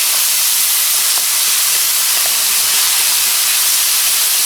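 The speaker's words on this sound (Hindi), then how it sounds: "यहाँ पे हम इसमें टमाटोज ऐड कर लेते हैं। इसको ज़रा मिक्स कर लें पहले।" Tomatoes hit browned onions in a hot pan for garlic potatoes, producing a loud, continuous steamy hiss and sizzle that fills the whole stretch with no talk.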